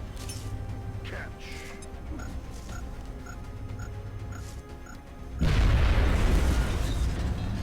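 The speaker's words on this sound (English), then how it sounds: "we're going to blow the grenades all at once right up front to try and do some more damage on the big disc" Grenades go off in XCOM Enemy Within: faint game beeps and hum give way to a sudden heavy blast whose loud rumble carries on to the end.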